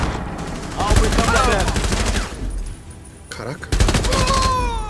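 Rapid automatic gunfire bursts from the mobile tactical shooter Rainbow Six Mobile, loud and close, with a pause and a second volley, mixed with game sound effects and a voice talking.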